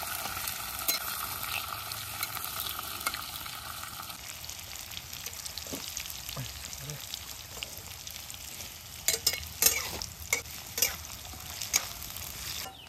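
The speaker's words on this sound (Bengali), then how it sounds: "এবার এগুলো ভালো করে খুন্তি দিয়ে নাড়াচাড়া করতে হবে" Chopped onion and chili fry in a pan for mutton kosha while a spatula stirs them. A steady close sizzle runs throughout, with sharper scraping clicks of the spatula in the last few seconds. No one speaks.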